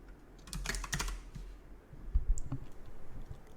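Quick, close clicks of fingers typing a name on a computer keyboard come in soft, irregular bursts of keystrokes with short pauses between them.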